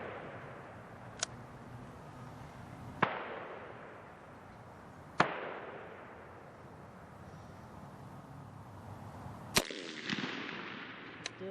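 Rifle shots fired downrange on a military marksmanship range, several sharp, loud cracks spaced a few seconds apart, each followed by a short decaying echo over quiet background.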